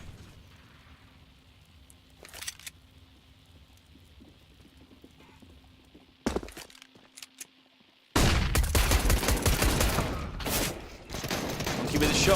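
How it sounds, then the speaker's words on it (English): A Counter-Strike match on the Inferno map: quiet ambience broken by a few sharp shots, then from midway a sustained loud barrage of gunfire and blasts, including a shotgun, with no talk. "With a shotgun, going for a double kill with a shotgun."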